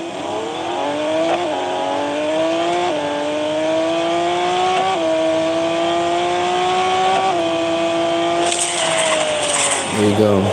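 Race cars roar in Real Racing 3 as a player's car takes on a Nissan, with a steady high engine drone rising through gear shifts and a brief tire squeal near the end, under a voice talking.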